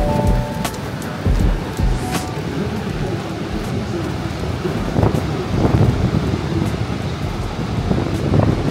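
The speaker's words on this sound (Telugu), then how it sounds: "ఈ బోట్ లోనే మనము అలా నైగరా ఫాల్స్ దగ్గరికి వెళ్ళిపోతున్నాము" Steady rushing water and gusting wind buffet the microphone aboard the Maid of the Mist tour boat heading toward Niagara Falls, a dense, continuous roar with occasional louder surges and no speech.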